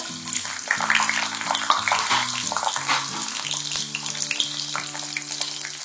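Steady crackling sizzle of shallots frying in hot oil, close and continuous, with a faint low hum running underneath.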